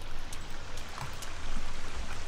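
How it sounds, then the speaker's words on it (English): Steady running water in the video game The Forest, a continuous broadband rush like a stream, with a few faint drips and splashes on top. "Oh, I can hear water."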